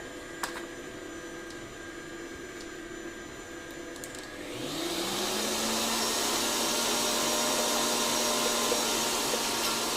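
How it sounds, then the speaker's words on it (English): An electric hand mixer whisks butter in a bowl for cake ganache, starting after a few seconds of quiet with a rising whine and then holding a steady, loud motor drone until the end. "we've got our butter in here, so we're going to whisk that up"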